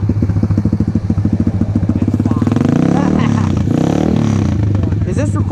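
A dirt bike engine ridden on a street, chugging with a rapid steady rhythm that rises into louder revving, close and continuous throughout.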